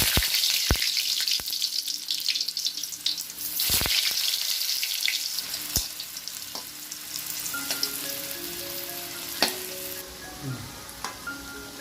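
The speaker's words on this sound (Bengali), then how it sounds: "দেখো, কড়াই গরম হয়ে গেছে। আমি এখন তেল দিয়ে একে একে আলু ফুলকপিটা ভেজে নেব।" Potatoes and cauliflower fry in hot oil in a wok, giving a close, continuous sizzle with a few sharp clinks and scrapes, while some faint tonal kitchen sounds drift in toward the end.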